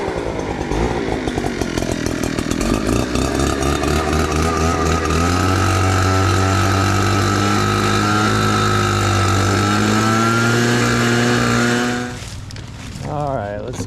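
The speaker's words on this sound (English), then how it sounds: "Get a blower and blast the rest of it." A powerful 800 CFM blower roars steadily while clearing dirt, a loud continuous engine-driven whine with shifting pitch that cuts off near the end.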